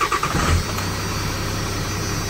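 A Cummins 12-valve 6BT diesel in a Dodge Ram with low fuel pressure and air in the fuel, cranking briefly and then settling into a steady, close, loud idle rumble with no talking.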